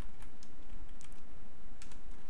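Keys clatter on a computer keyboard while code is entered, a short close burst of irregular taps with no talking.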